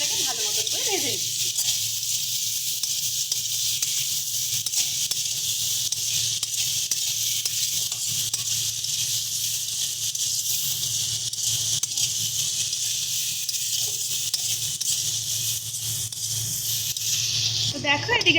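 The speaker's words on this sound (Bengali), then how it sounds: "সমস্ত কিছু দিয়ে এবারে আমরা মাছটাকে ভালো মতো করে ভেজে নিচ্ছি" Prawns frying in a pan with turmeric and salt: a steady, continuous bright sizzle with faint rustling, holding evenly throughout with no talk over it.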